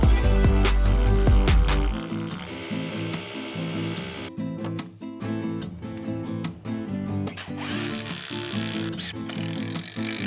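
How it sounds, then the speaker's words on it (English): A power drill drives screws into wooden fence lap boards outdoors, with repeated whirring bursts and ratcheting clicks in a steady rhythm. "Then I started to screw the fence lap"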